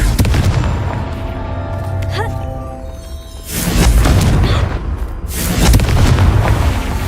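Repeated deep explosive booms from Confringo spells in the video game Hogwarts Legacy, a loud burst near 3.5 seconds and another near 5.5 seconds rolling over continuous game music and ambience.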